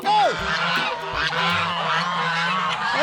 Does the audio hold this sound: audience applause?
no